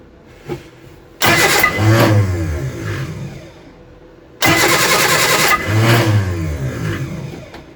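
A Reliant Supervan engine on half choke cranks and catches twice, each start bursting into loud, close revving that holds for a few seconds before dropping back, with a quieter gap between the two attempts.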